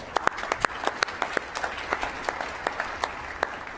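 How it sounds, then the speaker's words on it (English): Sparse, distinct claps from a small audience at an awards ceremony, individual hand strikes heard separately at a steady, uneven patter, moderately distant and fairly quiet with no talking over them. "so give them a round of applause"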